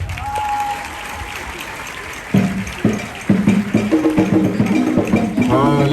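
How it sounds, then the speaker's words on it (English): Audience applause after a high school student's speech, starting as a faint murmur then bursting into loud, sustained clapping from a crowd, with a voice calling out over it. "Let's clap, let's not stop clapping for her."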